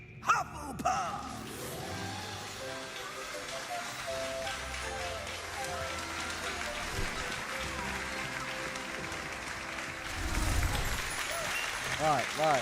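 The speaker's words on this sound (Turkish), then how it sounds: "Bak kardeşlerime bak, beni oradan alkışlıyorlar ya." A crowd applauds in the Hogwarts Legacy video game, a dense patter of clapping that swells near the end, layered under voices and tonal game sounds.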